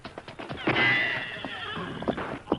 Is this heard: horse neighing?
yes